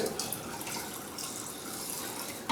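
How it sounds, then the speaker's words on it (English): Half a cup of water poured into a sand-textured mix for pears and chicken, a steady close splashing trickle lasting a couple of seconds with no talk. "I'm going to add about a half a cup of water to the mix too"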